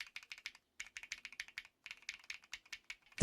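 Typing on a mechanical keyboard with muffled, dull switches gives quiet, soft keystrokes in quick irregular bursts with brief pauses, close by and alone, ending on a louder thump.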